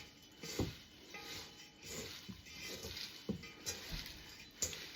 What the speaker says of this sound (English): I'm just going to give that a good mix